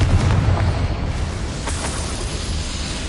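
A Confringo blasting spell goes off in the Hogwarts Legacy video game, a loud, booming explosion that fills the opening second and then settles into a rumbling roar.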